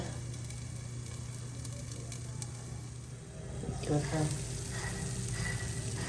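Paddu cook in a covered paddu pan with a steady, low sizzle throughout. A faint voice speaks in the background.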